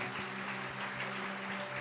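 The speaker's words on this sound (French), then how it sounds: "Dale un aplauso a Jesús." A church congregation applauds for Jesus, a dense, steady wash of clapping that fills the short moment without any voices over it.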